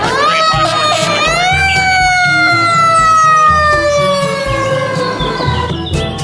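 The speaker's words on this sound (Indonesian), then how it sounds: "Yang ini ada mobil pemadam kebakaran." A toy fire engine siren wails loudly and continuously, its tone sliding slowly while a steady rhythmic pulsing beat plays beneath it.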